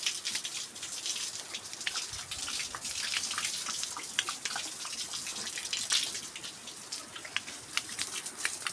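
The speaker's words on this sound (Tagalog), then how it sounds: "Yung tubig ko guys, unlimited water to. Wala tong bayad. Galing sa bukal." Free-flowing spring water on a rural farm, a continuous bright splashing and trickling stream, close and steady with scattered droplet spatters and no voices.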